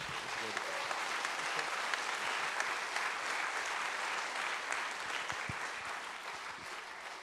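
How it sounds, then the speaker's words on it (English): An audience at a hackathon opening ceremony claps steadily for several seconds, a dense, even wash of applause with some voices mixed in, easing slightly near the end. "give another round of applause for these fine gentlemen"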